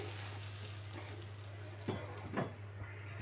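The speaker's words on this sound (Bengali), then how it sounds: "ডাল বাগার তো দেওয়া হয়ে গেল" Dal tempering (baghar) sizzles steadily in hot oil in a home kitchen, a constant close frying hiss broken by a couple of brief stirring or pan clatters near the end.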